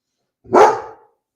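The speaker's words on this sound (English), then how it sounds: "let this dog stop barking" A single dog bark rings out loud and close during an Easter Sunday prayer service, one sharp burst lasting about half a second, with silence before and after.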